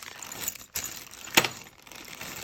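A pair of keys for a fire alarm control panel jangle and clink close up in short metallic bursts, with a few sharp rattles and no talk.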